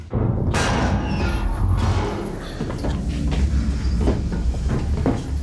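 A heavy train car, being detached to be picked up, rumbles steadily, with metallic clanks and thuds over a continuous low roar.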